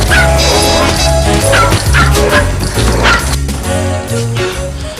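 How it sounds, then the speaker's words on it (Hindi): A dog barks and yips repeatedly, loud and close, with whimpering cries mixed in over a dense, steady background. "लगता है बॉबी ने कुत्ता पकड़ लिया है"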